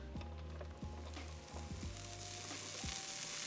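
Cheddar cheese sizzles in a hot chaffle maker, a soft steady crackle with a few sharp pops and clicks scattered through, close and fairly quiet.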